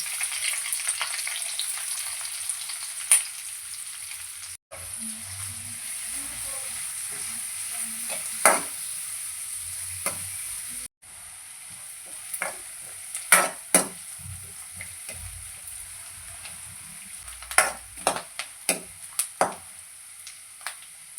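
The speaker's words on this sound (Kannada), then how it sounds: "ಎಣ್ಣೆ ಕಾದತ್ತಿ ಇವಾಗ ಈರುಳ್ಳಿ ಹಾಕೋಣ ಈರುಳ್ಳಿ ಮತ್ತು ಹಸಿಮೆಣಸಿನ್ಕಾಯಿ" Onion and green chillies are stirred in hot oil with a spatula. A soft sizzle runs under repeated sharp scraping clacks that grow busier toward the end, and two brief dropouts break the sound.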